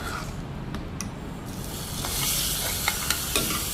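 A spoon stirs spinach gravy curry in a hot pan, a close sizzling and frying hiss with a few scraping clicks from the utensil, alone without speech.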